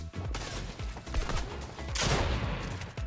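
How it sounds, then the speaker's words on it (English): Shotgun fire rattles through a Fortnite solo cash cup match, several heavy blasts in quick succession layered with other gunfire and game effects, loud and dense throughout. "I'm just burning shotgun shells."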